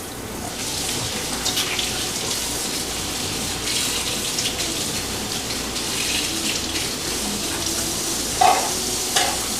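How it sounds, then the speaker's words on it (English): Potatoes boil in hot cooking oil in a home kitchen, giving a steady, loud bubbling hiss that runs unbroken throughout, with a brief clink near the end. "What's going to cook the middle of it is the oil. So now you just let that boil."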